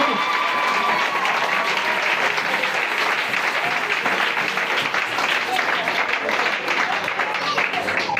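An audience at a church seminar applauds and cheers, a loud, unbroken wall of clapping that holds evenly for several seconds, with voices and shouts mixed into the crowd noise.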